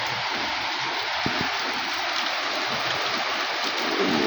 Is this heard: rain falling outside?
yes